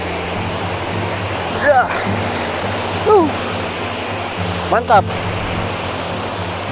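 Parangloe waterfall in Gowa pours as a steady, full broadband roar close by, with a few short spoken remarks from a man breaking in over the continuous rush of water.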